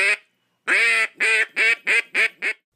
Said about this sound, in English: On one side is the mallard hen call.